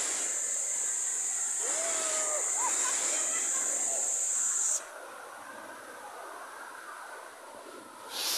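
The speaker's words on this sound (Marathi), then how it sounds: "हे आहे सवत कडा धबधबा." Savatkada waterfall roars as a steady, broadband rush of falling water close by, loud and continuous before easing slightly halfway through, with voices calling over it.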